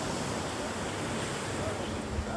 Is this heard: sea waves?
yes